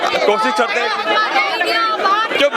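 Dense crowd of protesting doctors at a demonstration against a government health bill, a loud continuous babble of many overlapping voices close by, with shouts rising out of the chatter throughout.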